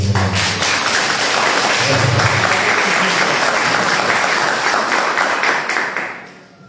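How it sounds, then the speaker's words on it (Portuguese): Church congregation applauding their pastor: loud, dense clapping from a crowd fills the space steadily, then tapers off at the end. "Quem pode dar um aplauso ao pastor Ivan?"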